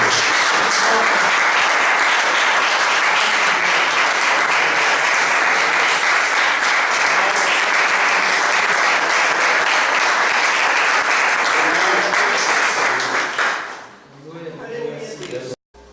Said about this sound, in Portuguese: Vamos dar uma salva de palmas para o Senhor Jesus?